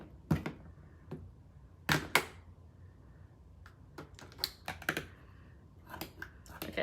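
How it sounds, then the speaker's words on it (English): Ribbon being cut with scissors, giving scattered soft snips and crisp clicks at irregular intervals, close and fairly quiet against a still room. "So we're just cutting up ribbon."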